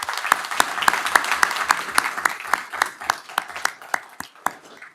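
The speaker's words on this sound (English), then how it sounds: "We want to give a round of applause to all our Concord 101s." At a city council regular session, a modest group applauds the Concord 101s, with distinct individual claps in a loose rhythm that thin out and fade toward the end.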